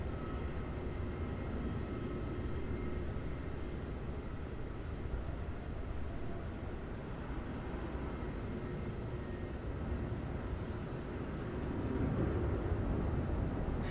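Jet aircraft taxiing at Melbourne Airport, a steady broad engine roar heard from a distance that holds evenly and swells slightly louder near the end.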